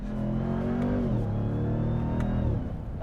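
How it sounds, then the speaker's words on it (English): A RAM 1500 TRX pickup revving, its supercharger whine sitting over a loud engine drone whose pitch drops partway through and then holds, close and steady with no talk. "I hope you guys can hear the supercharger whine through this microphone."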